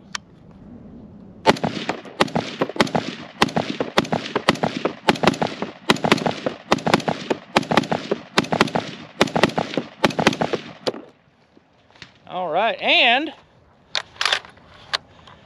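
An IWI Tavor 7 rifle fires a 20-round magazine outdoors at a range, a rapid string of sharp, loud shots in an uneven rhythm lasting about ten seconds, then a brief mechanical whine and a few short clacks.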